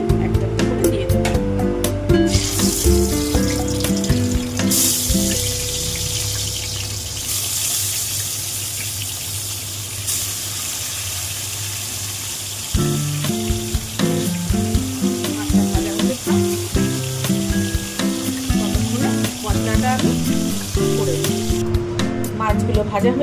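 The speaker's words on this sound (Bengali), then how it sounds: "তেল গরম হয়ে গেছে, এবার মাছটাকে আমি একটা করে দিয়ে দেবো।" Fish pieces slide into hot oil and fry with a steady, loud sizzle for much of the time, broken by a few louder bursts and clatters of utensils.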